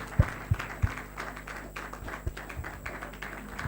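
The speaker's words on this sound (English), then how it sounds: "I think we should just clap for every single one of them" Scattered, fairly quiet clapping from an audience at an anniversary celebration, opening with a few separate loud claps before settling into a thin, uneven patter of hands.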